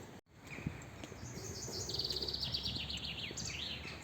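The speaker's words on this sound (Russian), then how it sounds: "И соловьи, и каких только птиц нет." Nightingales and other birds sing outdoors on a walk, a steady mix of bright chirps and trilling phrases rising in the second half, over a low background rumble.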